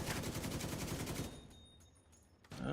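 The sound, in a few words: gunfire in video game The Division 2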